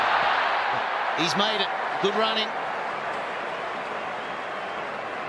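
A cricket stadium crowd roars during the tense closing overs of an India ODI final in Sydney, a steady, wide wash of cheering that runs under a commentator's brief remarks.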